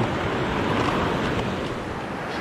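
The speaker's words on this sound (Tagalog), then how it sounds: "Ayan naman yung alon." Ocean surf rushes in a broad steady wash, mixed with wind buffeting the microphone, loud and close with no voices.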